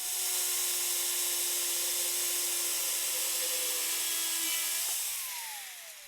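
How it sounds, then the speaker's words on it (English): An angle grinder whines steadily while cutting a metal roof rack bracket, a sustained high tonal grind that holds for about five seconds, then drops in pitch and fades as the disc spins down. "So I'm going to use an angle grinder"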